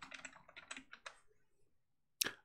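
Computer keyboard typing, a quick cluster of close, soft key clicks that thins out into a pause and ends with one sharp keystroke.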